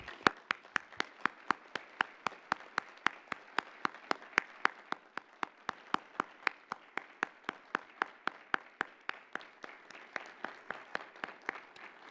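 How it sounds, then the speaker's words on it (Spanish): An audience claps in steady, evenly spaced rhythm at a human rights parliamentary event, sharp individual claps ringing out in a room over about twelve seconds with no talk. "Un aplauso para la magistrada Ociel."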